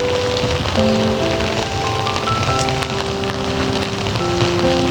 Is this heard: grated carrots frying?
no